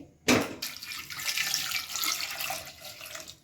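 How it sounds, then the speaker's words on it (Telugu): Water gushes steadily into a pressure cooker over taro roots after a sudden start, a continuous splashing pour lasting a few seconds with no talking. "చామ దుంపల పైకి వచ్చేలా వాటర్ వేసుకోవాలి"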